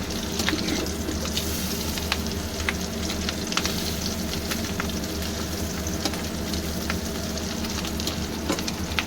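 A dense, steady sizzle of turned egg fritters, mixed with boiled potato, frying in oil runs throughout, with scattered light crackles and pops; no one speaks.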